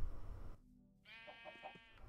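A sheep in Minecraft gives a single wavering bleat after a brief quiet gap, following a burst of low rumbling noise.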